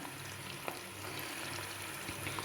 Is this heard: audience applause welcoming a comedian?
no